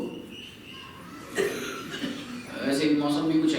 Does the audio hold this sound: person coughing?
yes